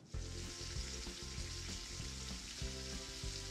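Onions and carrots fry in oil in a pot, giving a steady, close crackling sizzle with intermittent rhythmic clunks and scrapes of stirring throughout, no speech.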